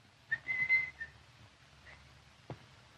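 A person whistles in a 1944 Charlie Chan film, a few short, clear whistled notes rising and holding, then a brief faint whistle and a sharp click against a quiet room.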